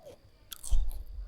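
Someone bites into and chews crunchy fried food, giving a short, close burst of crisp crunching that grows louder near the end, with no talking.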